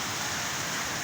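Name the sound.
heavy rain falling in Karachi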